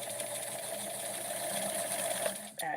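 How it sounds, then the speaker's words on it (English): A sewing machine whirs continuously, stitching the side seam of small Barbie doll pants, then stops abruptly near the end. "I'll be sewing one side of the pants"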